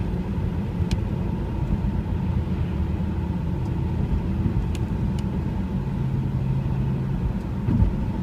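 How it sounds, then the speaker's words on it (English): Steady tyre and road rumble from a Mazda 3 with worn shocks driving over wet slushy snow and wet blacktop after a snowstorm, a continuous low drone heard from inside the car, with no talk. "I'm essentially driving on wet, disgusting snow"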